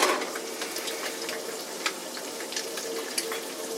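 Butter sizzling in a pan while cooking a breakfast sandwich, a steady crackling fry with scattered sharp pops, close and moderately loud, no voices.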